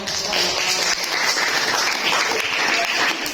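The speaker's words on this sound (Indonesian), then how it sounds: "Tepuk tangan dong." A classroom group applauds after a presentation, a dense, continuous burst of clapping that stays steady and fairly loud for a few seconds.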